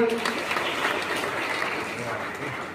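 An audience gives a burst of loud, dense clapping that carries steadily through the whole moment, with voices mixed faintly into the crowd noise.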